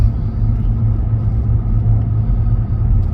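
A car on a daily morning drive, with steady low engine and road rumble throughout, loud and continuous with no talking.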